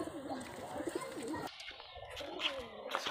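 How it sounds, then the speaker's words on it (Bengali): Rajshahi high-flying pigeons coo close by in soft, repeated throaty calls, with a brief rustle partway through and a few light chirps near the end. "এই আর এক জোড়া কবুতর দেখাচ্ছি আপনাদেরকে, দেখেন মাশাআল্লাহ।"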